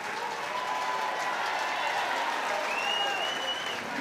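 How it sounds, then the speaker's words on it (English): A large arena crowd roars and applauds at the World Handball Championships as Paul Brady wins the title again. The sound is a dense, steady wash of cheering and clapping throughout, with faint whistles rising above it. "Just listen to this crowd,"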